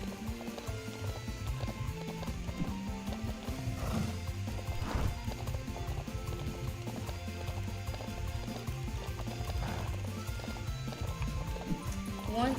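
In the video game Ranch of Rivershine, a horse's hooves clip-clop in a steady rhythm close by, with whinnies breaking through now and then over a faint liquid burble.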